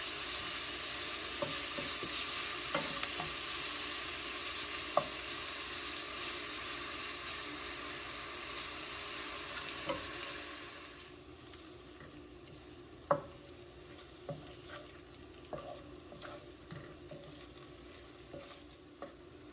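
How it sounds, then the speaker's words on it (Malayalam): Salmon fish frying in a pan over a low-medium flame: a steady broadband sizzle that is loud for the first ten seconds, then settles softer, with occasional sharp utensil clicks and taps near the pan. "ഞാൻ ഇതിലിട്ടൊന്ന് ചെറുതായിട്ടൊന്ന് കുക്ക് ചെയ്തെടുക്കാം."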